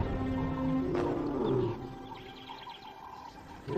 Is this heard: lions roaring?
yes